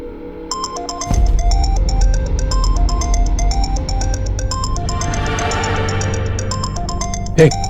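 A melodic electronic phone ringtone plays loudly and repeatedly over a low, steady background, ending with a sharp click. No one speaks.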